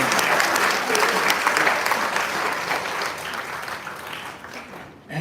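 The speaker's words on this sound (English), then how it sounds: "I beg clap our men." A crowd at a political rally against INEC in 2023 claps loudly and steadily for several seconds, dense sustained applause with a brief dip near the end.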